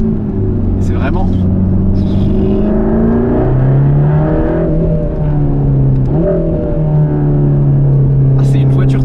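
Mercedes-AMG GT Black Series V8 fills the cockpit with a steady, loud drone that rises and falls in pitch as the revs change, running continuously beneath someone talking inside the car.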